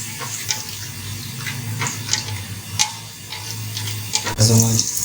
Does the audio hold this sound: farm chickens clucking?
no